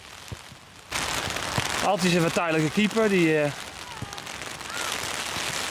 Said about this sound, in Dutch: En inderdaad, de regen die kwam uit.